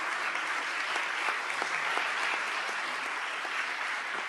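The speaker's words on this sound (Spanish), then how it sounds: "démosle un aplauso" A seminar audience in Chile applauds the mayor, steady full-room clapping that holds evenly throughout without any speech over it.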